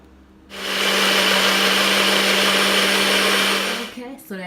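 A countertop blender roars loudly and steadily while reblending a strawberry and mango smoothie, starting abruptly and running for about three seconds before winding down.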